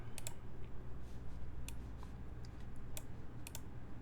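Typing on a Bear 65 mechanical keyboard, a steady stream of quiet key clicks and clacks in quick, uneven bursts over a low background hum, with no one speaking.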